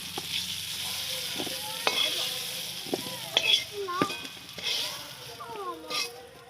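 Potatoes frying in oil in a pan for a Bengali pointed gourd and prawn curry, with a steady sizzle under repeated scrapes and clinks of a spatula stirring, close by.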